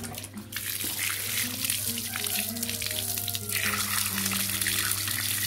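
Steady broadband rush of water flowing from a tap, continuous and close, with a low hum and faint tonal clinks underneath.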